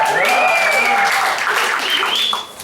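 Audience applause from a stand-up comedy crowd, a steady wash of clapping that holds for a couple of seconds, then tapers off near the end.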